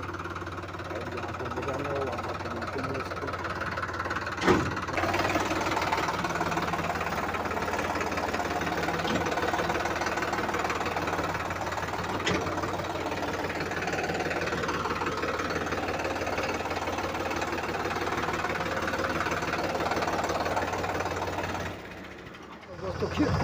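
A Sonalika DI RX 35 tractor engine chugs steadily nearby in a field, pulling a trolley, with a rough, knocking rhythm, running continuously throughout.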